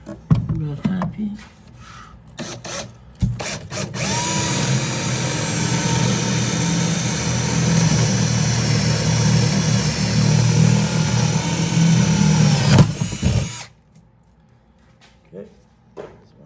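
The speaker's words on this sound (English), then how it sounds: "Let's drill that one first." A power drill runs at steady speed on a radio build project, a sustained whining motor drone lasting about nine seconds. Brief clatter and handling noises come before and after it.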